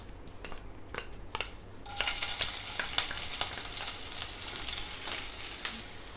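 Chopped green chili, garlic and ginger hit hot oil in a pan, bursting into a bright, steady sizzle after a few light clinks, with occasional spatters and stirring taps, close and alone.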